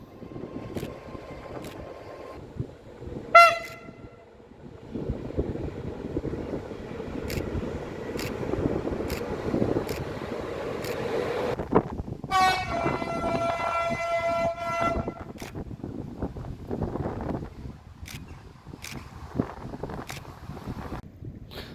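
Hungarian train station ambience with a steady low rumble of engines and machinery, occasional sharp tonal horn or brake squeals, and distant clatter; no talking.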